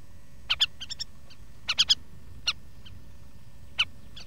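Birds call in the Bangweulu swamp, sharp high chirps in small clusters separated by quiet gaps, clear and fairly close over a faint background hush.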